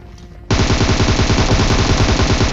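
Gunfire in the PUBG Mobile video game: after a quiet moment, a loud, sustained automatic burst of rapid shots rattles on without pause.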